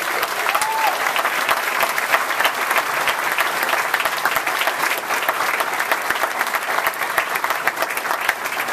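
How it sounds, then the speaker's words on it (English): Sustained audience applause fills a graduation ceremony hall after staff and faculty are asked to stand, a dense, steady wash of many hands clapping throughout without a break. "Let's give them a round of applause."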